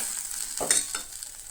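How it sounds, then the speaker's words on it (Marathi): Sabudana khichdi stirred in a pan makes a brief close scrape over a soft sizzling fry, with one distinct stroke midway and no talking. "हे बरें नाही मिक्स करून घेया."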